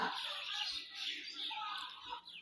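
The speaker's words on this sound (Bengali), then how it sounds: "বিকাল হলে পাখিগুলো চিমিচি ডাক দেয়" Birds chirp in a busy, overlapping chorus of high tweets that runs throughout, moderately loud and fairly close.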